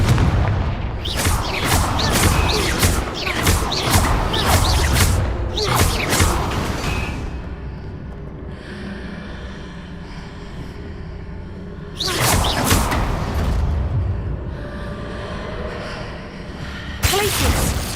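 Confringo explosive spell blasts in Hogwarts Legacy, a series of loud booming bursts with whooshing impacts, clustered at the start and repeating later, over a rumbling game background.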